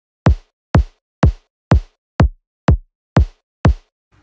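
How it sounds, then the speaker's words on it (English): A kick drum layer with a white noise texture strikes eight times at a steady rhythm, each a sharp, crisp hit with a hissy top and a brief low tail, isolated with silence between. "And then I added a third kick layer, which kind of sounds like some extra little white noise in the background,"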